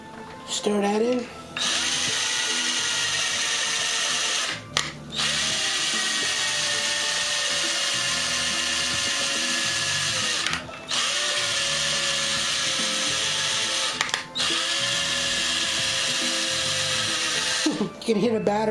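A battery-powered drill with a weakening battery runs in long sustained whirring bursts with brief pauses between them, steady and close while degassing wine.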